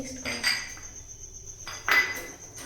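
Rice flour and maida being stirred together in a bowl for patisapta batter, giving two clinking, scraping bursts of utensil against the bowl with a quiet pause between them.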